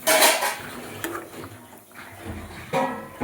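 A metal plate used as a lid is lifted off a cooking pan with a loud clatter, then more clinks and scrapes of metal on metal follow in a short, close burst of kitchen noise.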